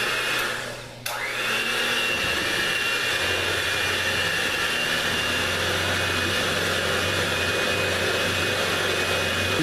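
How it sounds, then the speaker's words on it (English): An electric hand mixer whirs steadily through strawberry cake batter, starting after a brief pause and holding a loud, even buzzing drone close by. "grab your mixer and just start mixing away"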